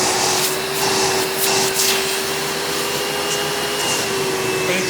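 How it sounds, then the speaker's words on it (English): A Hoover Dirt Finder Power Drive U6331-930 self-propelled upright vacuum, a direct-air machine, runs steadily with a loud, even whine and airy hiss, close and constant throughout. "since this is a direct air machine, don't expect miracle suction power from this thing"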